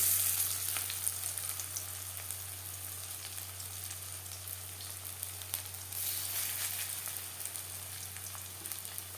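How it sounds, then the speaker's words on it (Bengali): Mustard flower fritters (bora) fry in hot oil with a steady, dense sizzle that holds evenly throughout, close and continuous, with no voices. "পরের বড়া একইভাবে ভেজে নেব"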